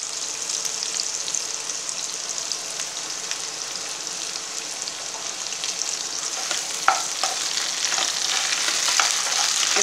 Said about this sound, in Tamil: முள்ளங்கியை போட்டு நல்லா எண்ணெயில் கொஞ்சம் நேரம் ஃப்ரை பண்ணிவிட்டு